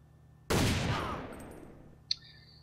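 A single loud SPAS-15 Dragon shotgun blast in the shooter game AVA, sharp and close with a long decaying tail, followed by a brief metallic click about a second and a half later.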